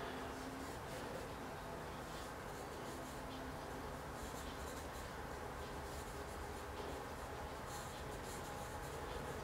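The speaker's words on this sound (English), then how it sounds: "I'm allowing the pencil just to create continuous markings that will hopefully eventually connect together" A pencil draws continuous lines on paper during a quick sketch of a head, giving a steady soft scratchy rasp that runs unbroken and close for the whole stretch.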